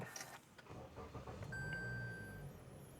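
A Toyota Altis 1.8 Sport sedan from 2022 being entered and started, with soft door and interior handling noises, a faint chime, then a brief starter crank catching into a low, quiet idle.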